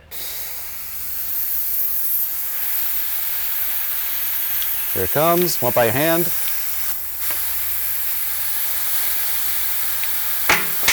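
A steady loud hiss of air rushing continuously as a tubeless bike tire inflates to set its bead, with a person speaking briefly in the middle over the noise.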